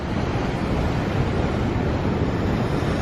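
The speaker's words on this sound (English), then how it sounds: "You get the sound of the ocean, the smell of the ocean." Ocean surf rolls in front of a beachside restaurant at an El Salvador resort, a dense, steady roar of waves mixed with wind rumble on the microphone, loud and continuous without speech.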